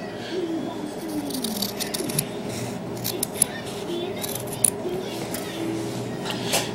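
Scissors snip the ends off a cotton round in a few soft, close cuts, set against a low steady background hum with light rustling between the snips.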